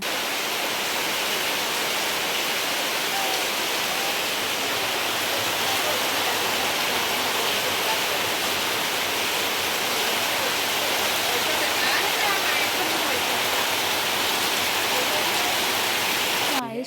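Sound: heavy rain with pouring water

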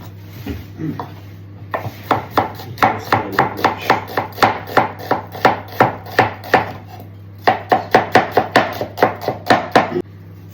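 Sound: chopping onion into half rings

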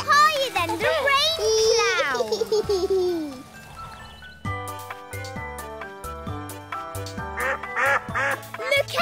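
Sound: ducks quacking

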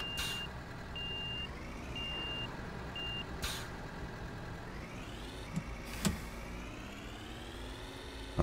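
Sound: garbage truck reversing beeps in a video game (Cityconomy)

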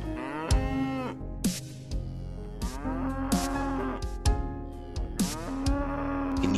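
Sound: cows mooing on farm pasture

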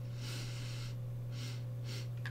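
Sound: sniffing a cassette tape

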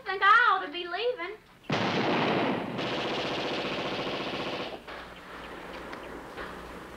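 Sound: U.S. Army Browning automatic rifle firing bursts

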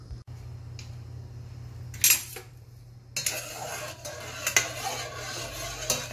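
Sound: stirring hibiscus tea with salt in a pot

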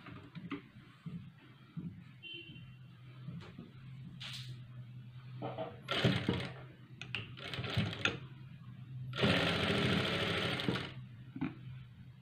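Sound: sewing machine stitching a blouse

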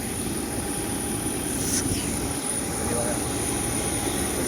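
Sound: airplane at the airport

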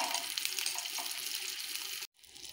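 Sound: green chillies sautéing in a pan

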